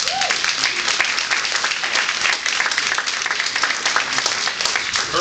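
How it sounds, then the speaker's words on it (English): An audience at a political speech breaks into sustained applause, a dense, even wash of many hands clapping throughout. "You should give yourselves a round of applause."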